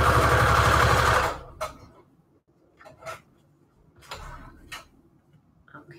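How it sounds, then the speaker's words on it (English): A sewing machine runs a brief straight stitch in a loud, rapid burst that stops after about a second, followed by a few faint taps and clicks. "I'm going to do one more straight stitch."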